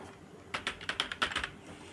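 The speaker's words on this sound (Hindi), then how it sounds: "उसके बाद दूल्हे क्या काम करता है दूल्हा, ये टाइप कर देना है।" Rapid bursts of keystrokes on a computer keyboard while filling in an online marriage registration form for Haryana, about a dozen clicks in quick uneven clusters, close and clear over quiet room hiss, with no talking.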